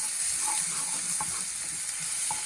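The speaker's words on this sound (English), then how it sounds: "ginger garlic chop, and cook slowly" Chopped ginger and garlic frying slowly in hot oil, a steady close sizzle with light stirring scrapes and clinks throughout, no voices.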